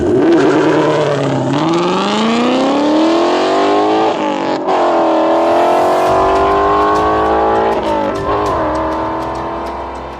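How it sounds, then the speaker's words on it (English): A 2018 Ford Mustang GT V8 with an aftermarket Legend exhaust and headers, non-active valve, revs repeatedly: loud, close rising engine notes climb and fall in several pulls, with no talking. "Now available for your 2018 Mustang GT, our Legend exhaust."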